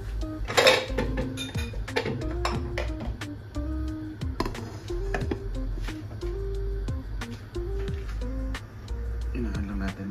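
A lid set back onto a cooking pot of fish tinola with malunggay, giving metallic clinks and rattles among kitchen clatter over a steady simmering hum, with a person talking throughout.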